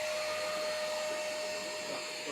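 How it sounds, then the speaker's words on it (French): An iLife G9 Pro robot vacuum's auto-empty station runs its suction, giving a continuous, fairly faint whooshing motor hiss with a steady whine, alone with no talking. "à partir du moment où j'aurai cliqué sur ce bouton, la station elle va aspirer"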